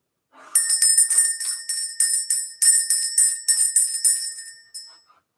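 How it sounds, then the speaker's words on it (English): A hand bell is rung repeatedly in a spiritual energy-clearing ritual, giving about a dozen bright, close metallic strikes in an uneven rhythm whose shimmering rings overlap before a final soft tap and fade. "Let's go ahead and ring this bell."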